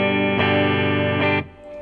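A PRS S2 Custom 24 electric guitar played through its neck pickup gives two sustained, heavily effected chords, the first ringing about a second before a re-strike, then cutting off sharply near the end.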